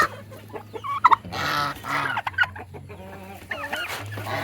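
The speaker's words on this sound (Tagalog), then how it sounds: "ang ating pinapakain sa ating mga alagang pabong, manok, gansa" Turkeys gobble, heritage chickens cluck and geese call in a close, busy barnyard chorus of overlapping calls at feeding time.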